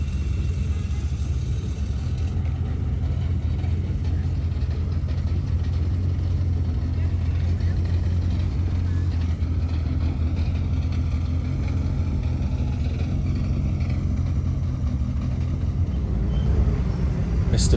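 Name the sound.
Ford Escort Mark II rally car engine at Oulton Park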